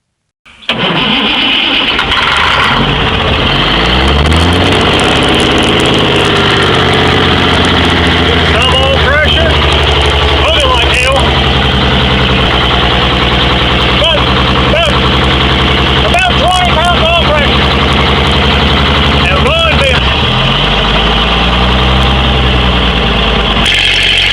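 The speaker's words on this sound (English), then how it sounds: "Crank up the Leyland L60, a 19-liter six-cylinder opposed piston engine from the Chieftain tank" A Leyland L60 from a Chieftain tank, a 19-liter six-cylinder two-stroke opposed-piston diesel, cranks and fires, then runs loud and close at a rough, throbbing idle with several rising revs and a spin-down near the end.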